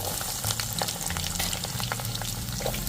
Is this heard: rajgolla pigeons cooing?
no